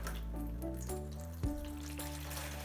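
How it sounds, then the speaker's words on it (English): Tap water pours into a bowl, a steady splashing stream whose pitch rises as the bowl fills, with one brief thump partway through. "I'm going to take the same bowl as last time and I'm going to fill it with water once again"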